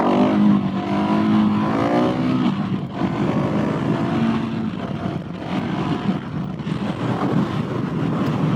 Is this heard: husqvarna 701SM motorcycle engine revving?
yes